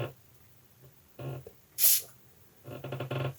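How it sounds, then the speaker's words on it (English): A spray bottle mists water onto a sci-fi terrain model, one short hissing spritz standing out among quiet handling noises. "The idea now is just to spray some water on the model,"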